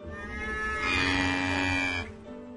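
A single cow gives a long, loud, close moo that swells and holds for over a second before fading, with a faint low lowing around it.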